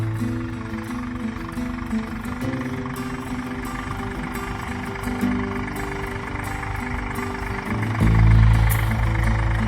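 A GPS-guided automatic tractor runs in a farm field, its engine giving a steady, continuous drone that swells louder and heavier near the end.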